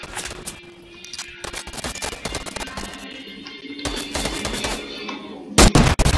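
Gunfire in a battle-royale video game during a solo squads match, a rapid cluster of sharp shots under a busy game soundscape, ending with a loud burst of close shots near the end.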